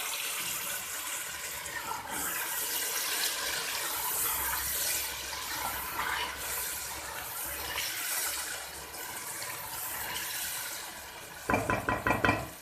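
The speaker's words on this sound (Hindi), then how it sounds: "मैं इसमें थोड़ा सा पानी डालूँगी" Water pours steadily into a pot of arbi (taro root) curry on the stove, a continuous splashing hiss lasting several seconds, followed by a few sharp knocks of a utensil against the pot.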